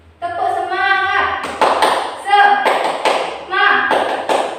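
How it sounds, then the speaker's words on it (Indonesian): Classroom of high school students doing a rhythmic spirit clap (tepuk semangat), bursts of claps and taps in patterned groups alternating with chanting and sung voices, loud and close. "Yuk kita tepuk semangat dulu ya."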